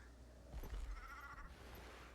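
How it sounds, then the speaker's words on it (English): A rabbit mount in Guild Wars 2 lets out a sheep-like bleat, a single wavering cry rising briefly over a low, steady game ambience. "I still don't know why you make sheep noises, you silly rabbit"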